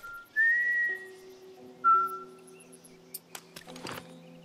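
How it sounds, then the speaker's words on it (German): A character in The Last of Us Remake whistles two clear rising notes, then steady game music holds underneath while a few soft clicks and a short burst of handling noise follow. "Ich pfeife."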